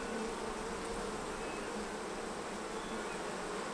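Honey bees at an open hive during an inspection, a dense, even buzzing hum of many insects close by, constant throughout.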